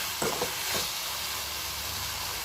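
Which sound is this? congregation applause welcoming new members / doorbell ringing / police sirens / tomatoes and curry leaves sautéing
tomatoes and curry leaves sautéing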